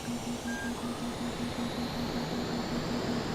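A MiG-29 jet engine with afterburner roars as a steady, dense drone while taxiing on the ground in Microsoft Flight Simulator, with a faint repeating tonal pulse over the top.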